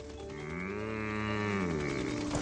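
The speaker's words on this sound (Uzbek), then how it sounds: "Yaxshi sigirsan, Daisy." A cow gives one long, drawn-out moo, close and loud, rising and falling over about two seconds.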